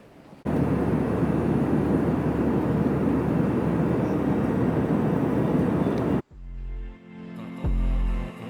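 Steady, loud broadband roar of an airplane cabin in flight, continuous for several seconds, then cutting abruptly to quieter, varied sounds near the end.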